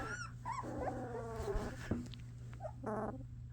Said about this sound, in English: This one's growling.